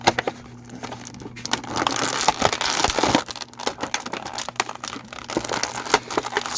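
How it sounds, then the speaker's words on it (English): Plastic toy packaging crinkling and crackling as a G.I. Joe Classified Red Ninja figure is unboxed, with a steady run of close, busy rustles and a few sharper snaps in the middle. No one talks. "we're going to take them out of this packaging"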